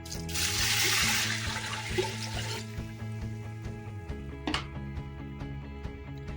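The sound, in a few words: pouring six cups of water into wheat kanji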